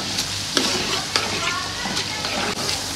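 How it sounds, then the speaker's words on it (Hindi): Onions frying in hot oil in a wok give a constant close sizzle. Light scraping stir strokes come through at intervals. "अभी हम इसके अंदर प्याज डाल देते हैं। अभी प्याज फ्राई कर लेते हैं।"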